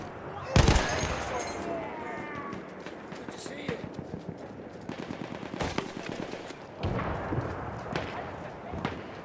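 Battlefield 1 machine gun fire: repeated bursts of automatic shots, some loud and close, others more distant, spread across a busy battlefield din with scattered voices.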